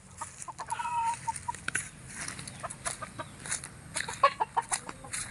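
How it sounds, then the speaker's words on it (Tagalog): Several chickens cluck in short, irregular bursts close by, over a steady low background hum. "so ito yung mga kapatid ng manok na nakuha sa atin ni Sir Angelo, no?"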